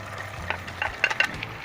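Chopped tomatoes tipped into a pan of browned onions and poppy seeds, giving a soft sizzle with a few scraping stir and clatter sounds, close and moderately quiet, with no talking.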